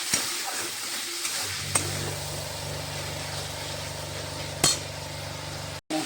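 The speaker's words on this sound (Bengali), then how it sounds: "মশলা কষাচ্ছি" Spices sautéing in a pan, a steady low sizzle with occasional sharp clanks of a utensil against the pan and a brief dropout near the end, no voices.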